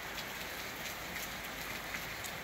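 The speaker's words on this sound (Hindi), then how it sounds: "देखो बारिश कितनी तेज़ हो गई है।" Heavy rain pours down steadily in a rural hill-village setting, a dense, even hiss with scattered drop patters, moderately loud and without talk.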